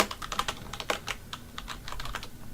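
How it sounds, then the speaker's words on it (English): Quiet, rapid keystrokes on a computer keyboard, a close, irregular run of light clicks with brief pauses as a name is entered into a Windows server settings field. "For example, we can type"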